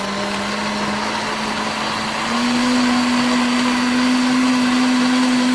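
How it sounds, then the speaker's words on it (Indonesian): A blender grinds mung beans to a smooth paste with a loud, steady motor whine that climbs slightly in pitch partway through and runs without a break, with no voices. "Oke, diblender sampai halus."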